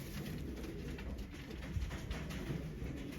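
Pigeons cooing inside a loft of racing birds, a steady low murmur of soft coos running throughout at moderate loudness, with no voices.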